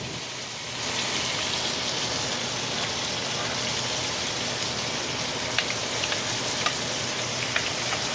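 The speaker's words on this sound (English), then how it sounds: "As it cooks, all the juice on that fantastic looking steak, we're going to let it cook." Porterhouse steak frying in butter in a pan, a steady dense sizzle and crackle up close with a few sharper pops scattered through, no voices.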